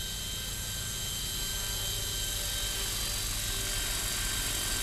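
A remote-controlled scale helicopter flies toward the listener. Its rotors and motor make a steady, high-pitched whine with a throbbing low buzz, close and continuous.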